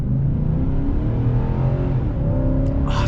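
A 2021 Nissan Titan Pro-4X pickup truck accelerating hard from a stop at night, a steady loud engine drone rising in pitch through the run, heard from inside the cab without talking.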